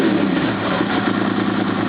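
A Suzuki SV650 motorcycle engine running in gear while still a little cold, a steady close mechanical drone with an even throbbing pulse and no voices.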